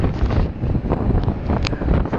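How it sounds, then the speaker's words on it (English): Steady wind buffets the microphone with a constant low rumble and roar, no talking. "It's getting windy and windier."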